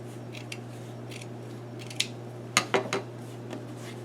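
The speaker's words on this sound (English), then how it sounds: "The inside of one of my pieces has the seam from the jeans. I'm going to cut that off." Scissors snip through the seam of denim jeans fabric, a few quick close cuts clustered in the second half over a quiet background.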